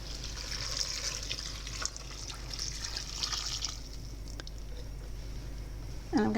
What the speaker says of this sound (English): The next thing I'm going to do is add the stock.